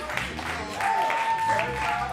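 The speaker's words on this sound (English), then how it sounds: "One more round of applause, y'all." An audience at an open mic jam claps after a song, a steady wash of applause throughout with a voice speaking over it.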